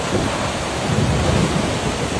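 Super typhoon storm at Sanya, Hainan, a dense continuous roar of driving wind, heavy rain and pounding surf, loud and unbroken throughout.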